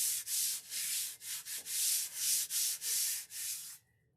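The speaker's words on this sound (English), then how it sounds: "So the first thing we're going to do is lightly sand our tile just to break any gloss." Ceramic tile lightly sanded by hand to break its gloss, about ten short rasping strokes in a steady back-and-forth rhythm, close and clear, then silence at the end.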